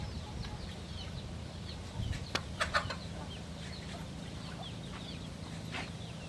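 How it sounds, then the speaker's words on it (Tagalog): Farm chickens drinking, with soft clucks and a few sharp pecking taps in the middle, quiet against a steady low background hum of the yard. "Mga manok natin umiinom rin."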